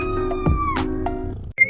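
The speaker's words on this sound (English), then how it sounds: "Then the cat lets out a soft meow" A cartoon cat lets out a short, soft meow in a garden, a brief tonal cry over light background music.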